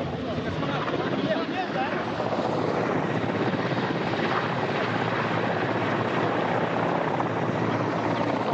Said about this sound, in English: you can hear in the background the Russian Mi-8 helicopters landing in sequential fashion